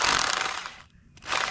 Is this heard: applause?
no